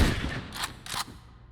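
Gunfire in the video game Overwatch: two quick loud bursts of shots close together over a dense background of game noise.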